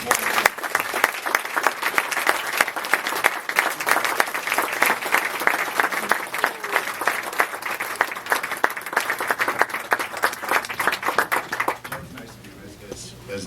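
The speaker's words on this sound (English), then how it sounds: "you kept the clapping going until I got here" A film festival audience applauds in sustained, dense clapping that stays loud for most of the stretch and then thins and fades near the end, with a little voice underneath.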